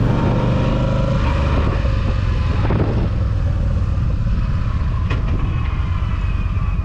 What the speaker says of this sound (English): Not as loud as I like motorcycles, but nice sound, man.